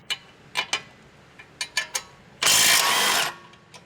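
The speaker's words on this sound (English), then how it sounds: "Use an 18mm socket with a 17mm wrench to remove the lower strut bolt" Socket and wrench loosen the lower strut bolt on a Honda Civic 1.8L coupe, giving a few sharp ratcheting clicks in small bursts, then a loud second-long burst of rapid ratcheting nearby.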